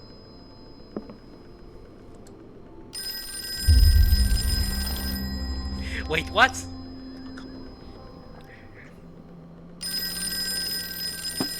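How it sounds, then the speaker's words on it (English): Telephone ringing in the video game Call of Cthulhu, bursts of bright bell ringing at the start and end with a low rumble between, while a player talks over it. "I know the phone is ringing."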